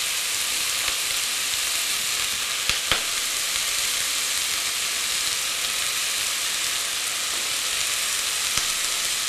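Salted onions sizzle steadily in a hot pan for Spanish fricco, a constant crackling hiss with a few faint clicks, no voices.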